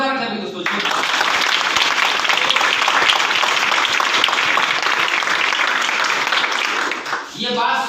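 Loud, dense audience applause at a business plan meeting in Varanasi, swelling in after a brief pause and holding steady for about seven seconds before easing slightly near the end.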